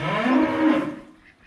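Cow and calf mooing in a backyard farm setting, one loud drawn-out bellow lasting about a second, close to the listener, then fading away.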